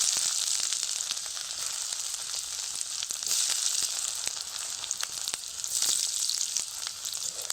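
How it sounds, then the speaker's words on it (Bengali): Nigella seeds with chopped ginger and garlic hitting hot oil in a pan, a continuous bright crackling sizzle with faint stirring clicks, moderately loud and steady, no voices. "একই তেলে দিয়ে দেবো কিছুটা কালো জিরে দিয়ে দেবো আদা রসুনের কুচি"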